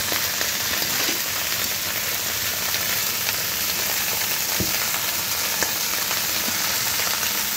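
Chopped soup vegetables (parsnip, celery, carrot) with garlic and tomato paste frying for braised lamb shank, a loud, steady sizzle with occasional stirring clicks and no voices.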